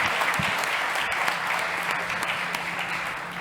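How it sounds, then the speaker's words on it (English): A large audience at a startup competition breaks into a dense, steady round of applause that holds loud and even throughout. "a big round of applause for Bosco Gonzalez de Valle"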